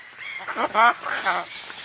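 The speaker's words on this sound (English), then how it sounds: "That was Fluffy in the background screaming" A Goffin's cockatoo screeches from the background in a few harsh, nasal squawks, rising and falling, moderately loud and somewhat distant.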